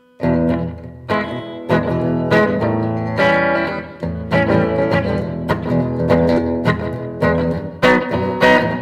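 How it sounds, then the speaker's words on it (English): An electric guitar plays chords and notes through an amp, with a short echo trailing each attack, loud and close, no voices. "That's a slapback. Basically, slapback, just a little tiny bit of reverb."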